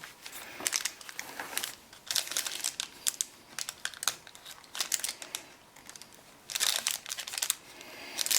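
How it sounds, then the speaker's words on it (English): Thin wax paper packaging is crinkled and handled while a Hot Toys Empire Boba Fett figure is unboxed. Close, crisp crackling comes in irregular bursts of rustling and crumpling, with quieter pauses between. "This is like a wax paper too."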